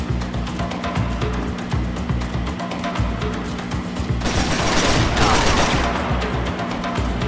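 Gunfire in the game Max Payne 3: rapid, dense bursts of shots over a constant low hum, loud and close, building into a heavier volley near the end.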